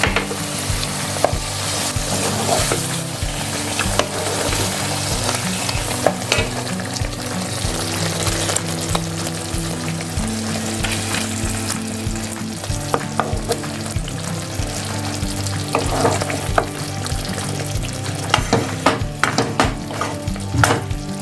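Potol posto, pointed gourd in a poppy-seed paste, bubbles and sizzles loudly in a pan after water is added, a dense continuous frying crackle with occasional sharper pops and stirring scrapes, no talking.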